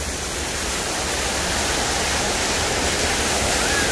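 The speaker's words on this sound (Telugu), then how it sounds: "అక్కడ వాటర్ పైనుండి పడుతున్నాయి." Water from a fountain pours down in a constant, even rush, a broad steady hiss with no voices and no breaks.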